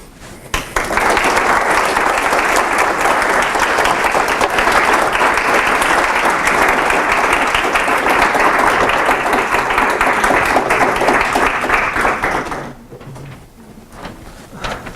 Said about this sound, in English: Can we get another round of applause for him?